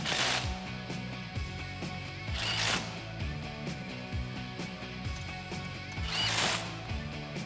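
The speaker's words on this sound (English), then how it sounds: "This is a 15 millimeter bolt. Go ahead and tighten all these up." A hand ratchet tightens 15 mm bolts on the front driveshaft of a Jeep Wrangler JK, giving quiet, steady rows of rapid clicks broken by short pauses between strokes.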